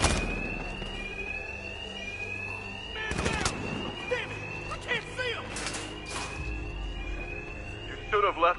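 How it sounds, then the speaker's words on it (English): Alarms ringing inside a Batman: Arkham Knight game level, a steady electronic tone with repeated bursts, under bursts of game voices and impacts. "these thugs can't hear a thing over the alarms"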